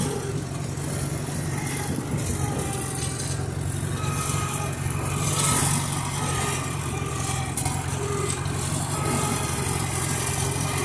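A Farmall Super H tractor with a narrow front end pulls drags across a field, its engine chugging steadily and loud at close range for the whole stretch.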